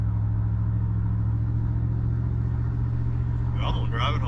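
A Buick without a windshield drives on the road, its engine a steady low rumble with heavy wind buffeting throughout, and a voice briefly starts at the end.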